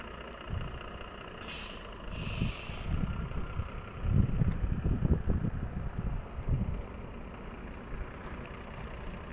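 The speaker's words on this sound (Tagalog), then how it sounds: "Bus." A bus passing near a cemetery in Bruzzano, with a deep rumbling engine swelling and fading, a brief hiss of air brakes early on, and wind noise throughout.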